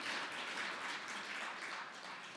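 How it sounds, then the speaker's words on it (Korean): A church congregation at Sunday worship gives a dense, continuous round of applause. It is faint and even, with no voices over it. "영광의 박수 올려드립니다."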